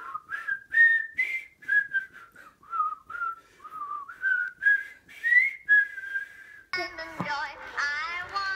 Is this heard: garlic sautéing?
no